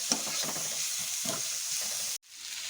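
Vegetables sizzle loudly in a pan of oil with lightly browned onions, a dense steady frying hiss with occasional stirring scrapes, cutting out briefly near the end before resuming.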